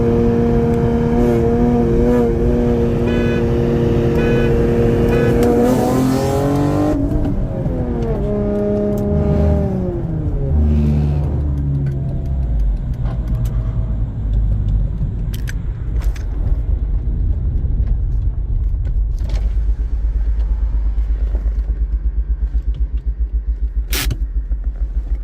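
An Acura TL SH-AWD engine revs hard through a roll race, a loud, steady drone climbing in pitch with each gear and dropping at the shifts, then settling into a lower rumble with a few sharp clicks and creaks.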